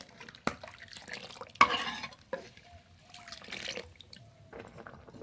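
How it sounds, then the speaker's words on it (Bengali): A pot of lentil dal with spinach, salt, turmeric and slit green chillies simmers and gets stirred, with soft bubbling, dripping liquid and a few close spoon clinks against the metal. "ডাল খুব ভালো জাল হয়ে গেছে"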